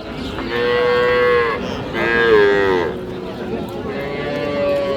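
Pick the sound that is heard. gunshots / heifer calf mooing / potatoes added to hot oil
heifer calf mooing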